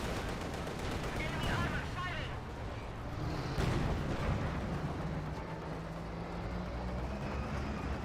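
Tank battle in the Company of Heroes 2 strategy game, a T-34-76 facing a Panther and Panzer IV, heavy cannon blasts and gunfire rumbling densely, with a commentator's voice talking over the combat.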